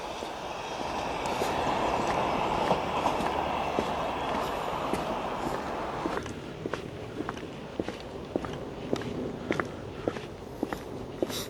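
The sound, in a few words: train passing along the coast at Dawlish Warren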